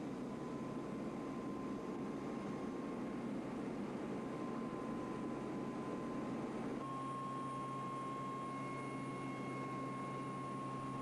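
Cockpit hum of a Pilatus PC-9/A training aircraft in flight during circuits, a steady, even engine drone with a thin whine that shifts pitch slightly midway, and no speech.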